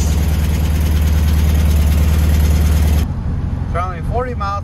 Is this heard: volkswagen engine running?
yes